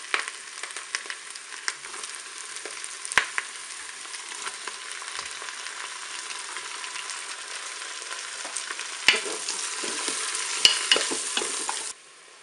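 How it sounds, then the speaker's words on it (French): Ham slices frying in a preheating Cookeo multicooker, a steady close sizzle with occasional sharp stirring scrapes and clicks, no talking, ending abruptly. "je vais ajouter mes tranches de jambon"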